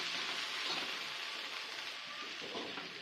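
Okra sautéed with kokum and salt gives a steady, close frying sizzle with soft scraping as it is stirred, continuous throughout.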